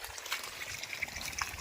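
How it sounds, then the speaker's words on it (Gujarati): Water runs steadily into drip irrigation lines in a garden, a soft continuous trickle and wash with a few faint splashes, heard alone and at low level. "હવે આપણે ડ્રીપમાં પાણી ચડાવી દીધું છે"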